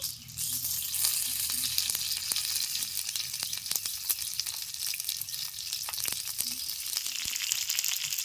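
Egg paturi wrapped in pumpkin leaves frying slowly in a little oil in a pan over medium heat, giving a steady, close sizzle with scattered crackles and pops throughout.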